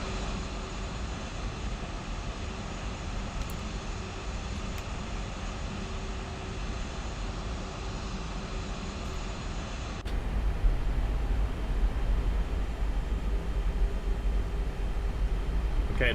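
A FlightFactor A320 in X-Plane 12 spools up for takeoff on runway 25, a steady broad engine roar that swells louder partway through, heard alone.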